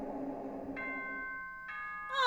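A ding-dong chime plays in the Danganronpa 2 video game: two clear bell-like tones a second apart, then a brief rising tone, with no talking.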